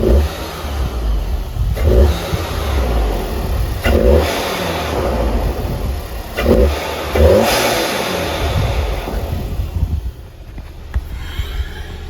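Car engine fitted with an Integrated Engineering intake revving repeatedly at close range, each rise in revs surging loudly over a steady idle, with wind noise on the microphone and no talking.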